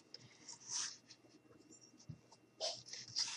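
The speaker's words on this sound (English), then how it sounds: "first thing we're going to do is I'm going to go ahead and draw my coffee cup" Pencil sketching a rough coffee cup outline on paper, soft scratchy strokes coming in a few short bursts, quiet and close.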